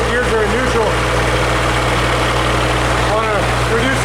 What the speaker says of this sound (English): We got the little generator running. Got the port engine running. Starboard engine running.